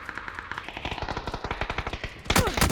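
A shooter video game gives off a rapid burst of automatic gunfire, evenly spaced sharp reports that build in loudness and then end in a heavier blast near the finish, close and with no voices over it.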